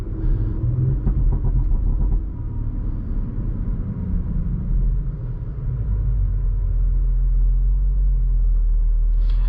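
A 2018 Audi SQ5 engine accelerating, heard from inside the cabin as a steady deep rumble and engine drone that holds loud throughout.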